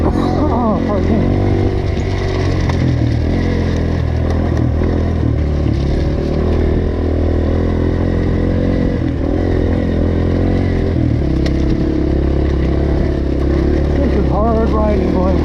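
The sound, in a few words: dirt bike engine on an enduro trail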